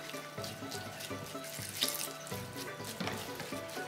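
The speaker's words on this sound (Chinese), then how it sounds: "在蒸好的糯米里面加入一碗的清水" A bowl of clear water is poured over steamed glutinous rice in a steamer basket, a close, gurgling splash in several short bursts under light background music.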